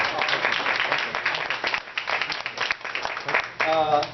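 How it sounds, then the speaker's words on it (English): An audience at a VIP remarks ceremony applauds, a dense, moderately loud wash of clapping with speech heard over it at times and a voice returning at the end. "could you please join me to give a big round of applause?"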